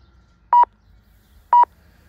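A fitness app's workout timer starts with two identical short electronic beeps one second apart, clean and loud against near silence.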